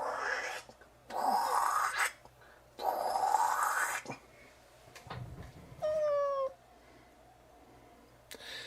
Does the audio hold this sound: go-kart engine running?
no